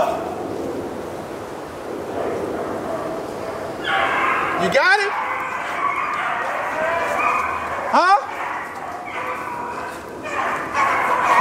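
Dogs at Benson's Kennel barking and yipping close by, with two sharp loud bursts standing out over a steady background of whimpers and kennel noise.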